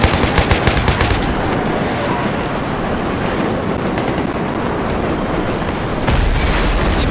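Explosions in Battlefield 3: a dense, sustained burst of booming blasts and rapid gunfire-like crackle, loud and continuous, with a brief lull before a heavy rumble resumes near the end.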